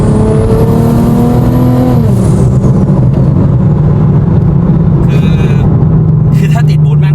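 BMW with M-TEC Engineering tuning pulling hard under boost, a loud engine note climbing in pitch then dropping at a gear change before building again, close and continuous, with people talking over it.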